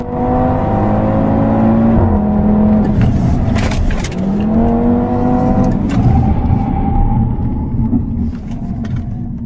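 A police car pulls away, its engine revving and whirring loudly close by with shifting gear tones and a steady rumble throughout, no talk.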